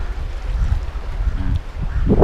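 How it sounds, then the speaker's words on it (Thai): Strong wind roars across a boat out on the water of a reservoir during a fishing trip, giving a loud, steady low rumble of gusting microphone noise with faint splashing, rising toward the end, no voices. "ช่วงตอนนี้ขึ้นลมแรงมากนะยังขึ้นในทะเลเลยนะครับ"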